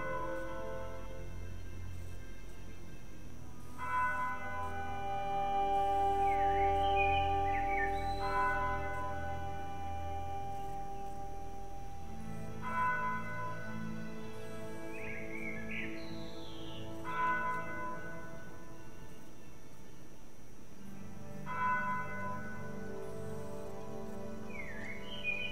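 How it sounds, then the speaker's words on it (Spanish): Church bells ringing in the distance in the video game The Lion's Song, several slow resonant tolls spaced apart over a soft ambient bed, with no talking. "Se oyen a lo lejos las campanas de una iglesia."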